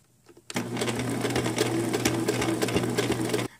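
A sewing machine runs steadily, stitching in the ditch along the top edging of a Victorian corset. It starts abruptly after a brief quiet moment and hums continuously with a fast, even rhythm, close and clear, with no talking.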